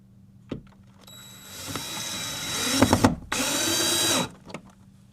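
A power drill drives screws to mount a thermostat on a wall, making two close, sustained whirring bursts with a brief pause between them and a few small clicks before and after.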